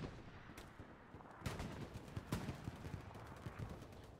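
Anti-tank field cannon fire in the video game Hell Let Loose, heard as a few sharp distant booms amid a steady crackle of battlefield gunfire, all fairly faint with no voices.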